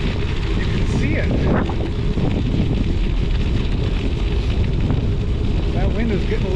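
Wind roars steadily across frozen Green Bay during a February bicycle ride on the ice, a constant loud rush with buffeting on the microphone and faint rumbles underneath.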